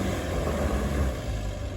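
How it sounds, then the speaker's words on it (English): A 4WD's exhaust burbles muffled under mud at a mud pit, a low steady rumbling drone close by with no talk. "Oh, you can hear the exhaust with the mud over it."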